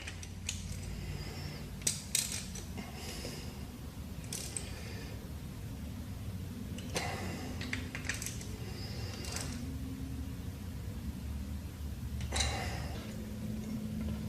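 A ratchet clicks as it tightens glow plugs on a Kubota diesel engine, with soft irregular ticks and occasional sharper clicks over a low background hum.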